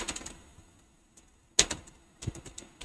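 Sparse key presses on a computer keyboard while entering text into Excel cells, a few soft clicks near the start, one sharp louder tap midway, and a brief cluster of keystrokes toward the end, with no talk.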